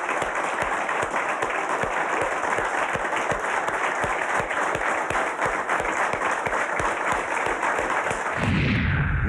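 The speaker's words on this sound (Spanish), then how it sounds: "pido el aplauso del país para él" A crowd at a televised presidential address applauds in strong rhythmic unison, with regular synchronized claps over a steady background tone, ending abruptly in a burst of noise.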